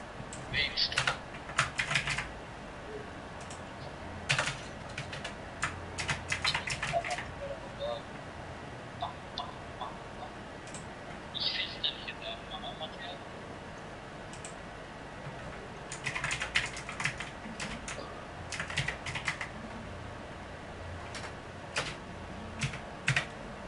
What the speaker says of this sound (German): man hört also deine Tastatur